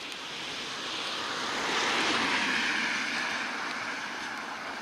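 Cars passing along a nearby road, a broad rushing roar that swells to a peak near the middle and slowly fades, with no voices.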